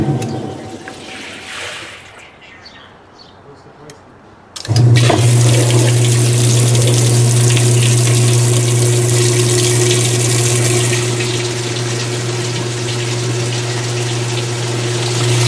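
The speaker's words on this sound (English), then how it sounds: "Yes, there's your low speed spin." A Kenmore 80 Series washer starts its low speed spin, a quiet sloshing lull giving way abruptly to a loud steady motor hum with pumping water that continues unbroken.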